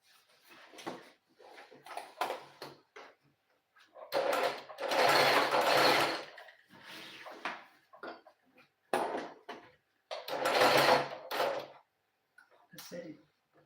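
A sewing machine zigzag-stitches fabric in short bursts, with several runs of rapid whirring separated by pauses and quieter handling noises.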